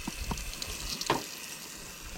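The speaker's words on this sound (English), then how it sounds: "now we're going to pop our salmon on there and let's hear it sizzle" Salmon sizzling on a grill at a motorcycle campsite: a steady, soft hiss with a couple of brief pops and clinks over it, no voices.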